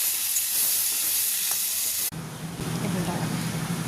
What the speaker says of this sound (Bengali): উচ্ছে ভাজা বসিয়ে দিলাম, এর মধ্যে লবণ আর হলুদ, আর কিছু না।